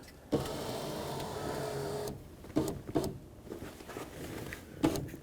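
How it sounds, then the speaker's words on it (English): A Pontiac G6 power window motor raises the glass with a steady, close whir of about two seconds, followed by a few short clicks and knocks. "I want to bring my window up so that I can have access to the tabs that lock in the glass onto the regulator"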